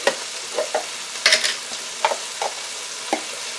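Garlic paste hitting a hot stir-fry pan for teriyaki chicken, with a soft background sizzle broken by several sharp scraping stir strokes, close and with no one talking.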